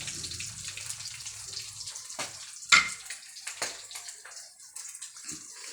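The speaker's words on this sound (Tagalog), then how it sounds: "Tumatalsik ang bangos." Close running water and irregular splashes while milkfish are washed at a sink, with a sharper splash about midway and softer sloshing after.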